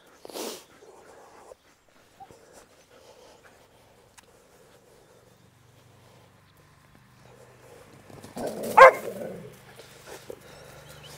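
A boarding dog wearing a protective cone barks in two bursts, one short bark at the start and a louder cluster near the end, separated by quiet with soft movement and shuffling.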